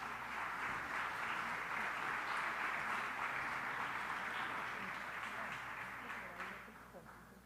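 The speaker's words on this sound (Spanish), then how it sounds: "La recibimos con un fuerte aplauso" Audience in a lecture hall applauding to welcome a speaker, a dense steady wash of clapping that holds for several seconds before tapering off at the end.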